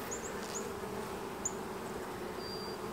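Honey bees buzz around an opened hive during an inspection, a faint, steady hum with a few individual bees passing close by.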